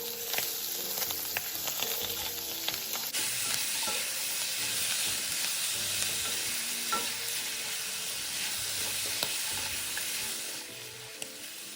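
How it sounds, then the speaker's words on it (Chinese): Pork belly stir-fried with garlic, three bay leaves and three star anise in a hot wok, giving a loud steady sizzle with scraping stirs throughout, dropping off near the end. "倒入备好的花肉、香叶3片与八角3个，然后快速翻炒至肉块均匀上色"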